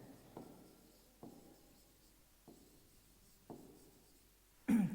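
Chalk or marker strokes as numbers are written on a board in a maths class, four short separate scratches at a steady pace, quiet and close, with no talking.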